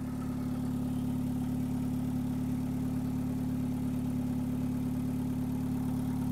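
A Mitsubishi Colt Ralliart with a stage 3 engine idles smoothly and steadily, giving a constant low hum with no revving and no voices.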